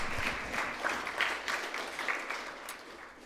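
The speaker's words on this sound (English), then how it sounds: "let's start off by giving a round of applause to all our participants." An audience at a youth debate event applauds the participants, a short, moderately faint round of scattered clapping that softens slightly toward the end.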